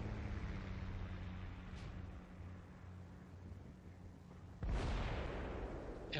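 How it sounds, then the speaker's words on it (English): Bombs explode on target during a bomber run in the IL-2 Great Battles flight game: a single loud, sudden blast erupts near the end, after a steady rumbling drone. "And at least one of our bombs is right on target."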